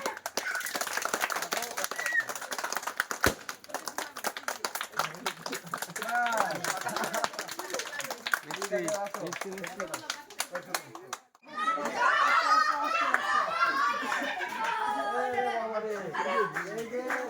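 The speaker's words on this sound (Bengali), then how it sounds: "সবাই হাততালি দাও।" Children at the new home of five orphaned sisters burst into dense, sustained hand clapping, mixed with lively kids' voices and chatter. After a brief lull, the clapping and cheering swell again.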